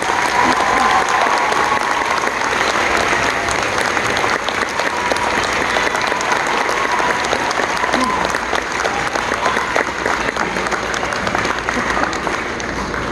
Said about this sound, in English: these students deserve a big round of applause